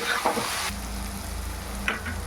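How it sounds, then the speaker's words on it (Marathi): Onion and tomato sautéing in a pan with oil and salt, giving a steady, moderate sizzle, with a few scraping stirs early on and again near the end. "टमाटा आणि कांदा परतून घ्यायचा आहे।"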